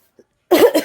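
A single loud, close cough bursts out after a brief silence and trails into a second, shorter rasp.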